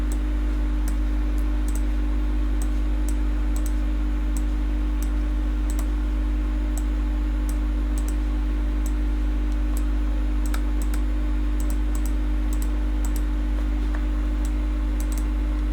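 Faint, evenly spaced computer mouse clicks while dragging textures onto a model in Blockbench 3D software, ticking sparsely over a steady electrical hum.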